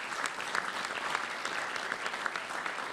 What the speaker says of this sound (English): if we just give them a round of applause